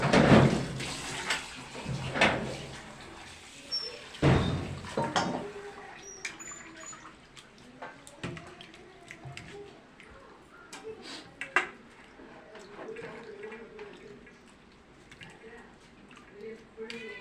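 Mussels being rinsed in water in a kitchen, with splashing and sloshing bursts near the start and quieter clinks afterward, birds chirping faintly in the background and a person talking over it.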